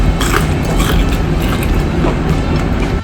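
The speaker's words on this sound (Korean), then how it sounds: "먼저 치킨부터 한 입 먹어봤는데" Loud, close crunching bites into crispy homemade fried chicken, a steady dense crackle of chewing and crunching running throughout with no talk.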